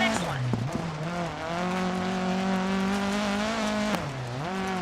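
Rally car engine in the DiRT 4 video game, revving high with a steady droning pitch that dips sharply on downshifts into corners and climbs back, close and continuous, with faint tire noise beneath.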